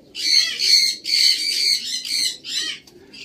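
Pigeons in a crowded flyer loft squawk and call in loud, close bursts, about six harsh calls in quick succession with brief gaps between them.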